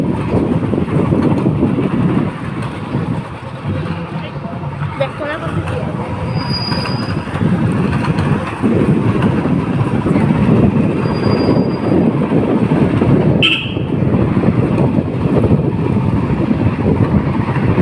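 A passing train rumbles loudly and steadily throughout, with metallic wheel squeal and rail clatter, a sharp brief screech near the end, and faint voices mixed in.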